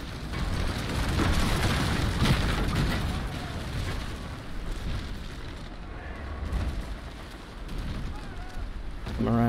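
Ship cannon fire in the naval battle game Naval Action, heavy rumbling booms rolling together into a dense, loud roar with wind-like noise.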